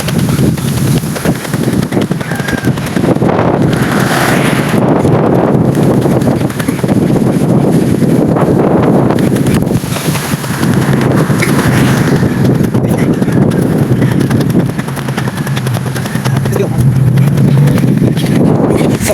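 Steady, loud wind rush buffeting the microphone on a mountain trail during an early-morning jog before dawn, continuous broadband roar with gusty swells throughout, no talking.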